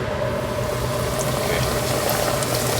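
Chicken fried brisket steak dropped into about two inches of deep oil, frying with a steady, dense bubbling hiss that holds at an even loudness throughout, close and continuous with no talking.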